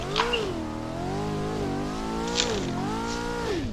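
A C5 Corvette Z06 V8 revs hard under driving load, its pitch climbing, dipping and climbing again through shifts, loud and close with a faint squeal of tires.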